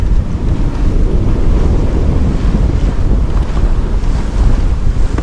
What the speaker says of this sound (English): Yeah, the wind's getting stronger.